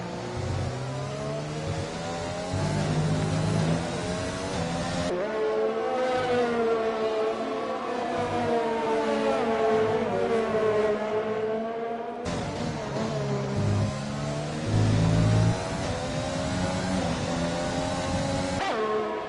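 Race car engines in a sim racing video game at Italian Grand Prix circuit, loud high revving that climbs and drops through gear changes in long sweeps, with abrupt cuts between cars and no voices heard.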